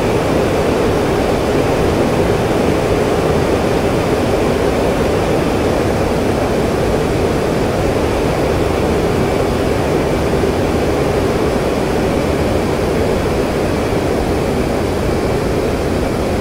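The F-15C Eagle's jet engine in DCS World roars in a steady, loud, unbroken rush during a high-speed climb, with no other sounds on top.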